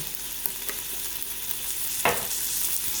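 Half a teaspoon of minced garlic sizzles in a pan as it is stirred, giving a soft steady hiss with a few light scrapes and one sharper burst near the end, with no talking.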